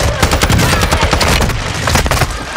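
Loud, dense automatic gunfire in the video game Warzone, rapid overlapping bursts and shots crackling continuously close up with heavy low-end impact.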